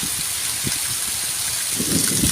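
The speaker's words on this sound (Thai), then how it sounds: "ฝนตกอยู่" Steady rain falls near a bridge during a stormy day, a dense, continuous hiss with no voices.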